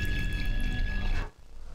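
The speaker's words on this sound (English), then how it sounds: "Just gonna refill my water." Water pours steadily from a container into a drinking glass for about a second, a continuous bright gurgling stream that stops abruptly, leaving quiet room tone.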